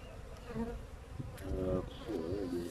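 Honey bees buzzing steadily close by at a hive during a beekeeper's inspection, a dense continuous drone with wavering pitch and no speech over it.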